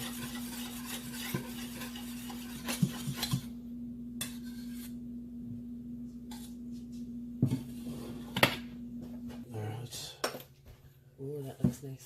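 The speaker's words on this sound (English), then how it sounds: "do a little stir, and the chocolate will blend into the cream" A spoon stirs chocolate into cream, scraping and clinking against the bowl in irregular strokes, with quiet pauses between bursts of stirring and a muffled voice briefly near the end.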